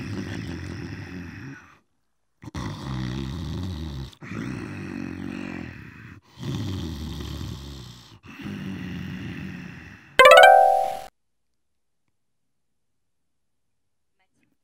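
A voice imitates a wolf snoring loudly in a Little Red Riding Hood bedtime story: several long, rasping, grunting breaths with pauses between them, followed by a brief bright chime and then silence.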